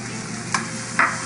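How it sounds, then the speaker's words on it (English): Bacon and thawed frozen baby peas stir-fried in a hot pan give off a steady, close sizzle throughout, with a couple of brief sharper crackles near the end. "You can hear it sizzle"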